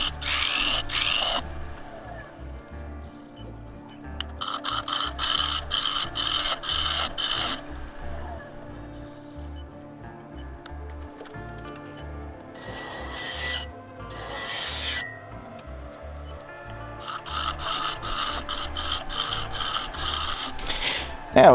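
Scraper cutting a 7-inch fiddleback claret ash bowl on a wood lathe, giving repeated bursts of harsh rasping chatter with a rising scream, separated by quieter spinning stretches, loud and close with no talk.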